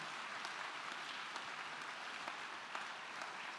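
Church congregation clapping together in steady, dense applause with scattered sharper claps, filling the room at an even level with no talk over it.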